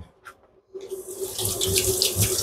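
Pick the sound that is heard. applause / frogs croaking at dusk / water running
water running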